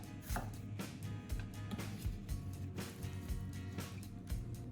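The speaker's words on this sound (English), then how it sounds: "Slice it into slightly thick pieces so it keeps its natural sweetness" A knife slicing an onion into slightly thick pieces on a cutting board, giving a run of soft, close, evenly spaced chopping thumps about every half second.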